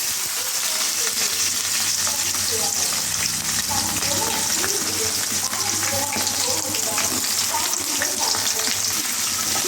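Onions sautéing in a pan for an ivy gourd (kovakkai) gravy, a steady close sizzle with scraping stir strokes running throughout, fairly loud and continuous.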